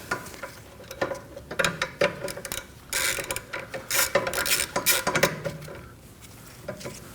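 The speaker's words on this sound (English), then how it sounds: "Now we're gonna remove the caliper bracket, and for that we're gonna use a 12mm socket." Rapid metallic ratchet clicks from a 12mm socket wrench loosening the caliper bracket bolts on a 2011-2016 Kia Optima rear brake, coming in irregular bursts, close and fairly quiet, with no voices.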